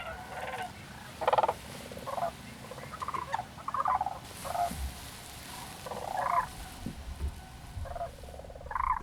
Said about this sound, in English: we call it trumpeting or bugling